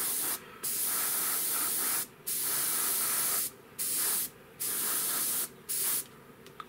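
An airbrush or spray can lays green paint over a masked scale model canopy in five or six short bursts of close, loud hissing spray, separated by brief pauses.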